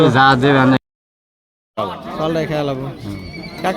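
A horse whinnies loudly and close by at the Tulsipur horse market in Jamalpur. The call breaks off into a second of silence, then resumes in rising, wavering calls, with people talking nearby.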